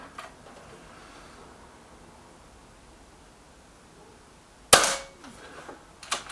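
A Hatsan AT44-10 PCP air rifle fires a single sharp, close crack against a quiet background, followed by a few fainter clicks.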